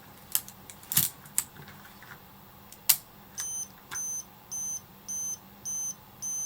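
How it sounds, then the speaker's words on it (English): A few sharp clicks, then a steady series of short electronic beeps repeating at an even pace from an Olympus OM10 film camera's self-timer alarm, fairly close and clear over quiet background hiss. "So I get an audible alarm and the LED goes off"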